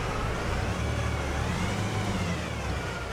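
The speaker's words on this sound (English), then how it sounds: "So this is the American version of the tractor." John Deere 9R tractor engine in Farming Simulator 25, an American model, holding a constant low diesel drone at steady loudness, close and unbroken, no speech.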